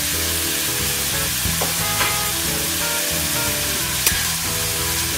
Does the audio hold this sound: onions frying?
yes